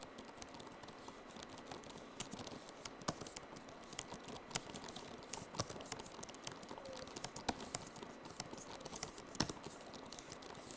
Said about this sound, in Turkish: Bakalım klavyenin tuş sesleri nasılmış hep birlikte bir görelim.